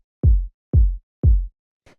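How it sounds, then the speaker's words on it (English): Punchy house kick drum playing quarter notes at 120 BPM, three deep, booming hits evenly spaced and alone, followed by a faint brief click. "this is just a nice kind of punchy kick, and then it's playing quarter notes"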